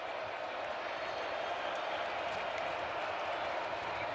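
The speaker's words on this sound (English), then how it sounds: "Crowd back in it." A large stadium crowd at a college football game between Maryland and Ohio State keeps up a steady, distant roar and applause that lasts throughout.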